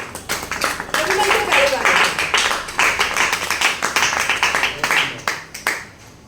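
An audience in a training session claps in rapid, uneven bursts, a busy patter of hands that rises and dips, with speech mixed in.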